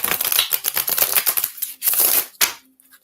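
Oracle cards are shuffled in quick, crisp riffling bursts, close and alone, with brief pauses between a few shuffles.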